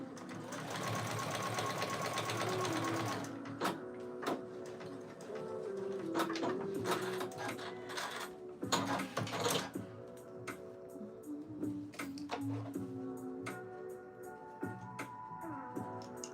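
A sewing machine stitching flags and vest fabric whirs in a steady fast run, then continues in short bursts and pauses, close and fairly loud, while people chat nearby and birds coo faintly.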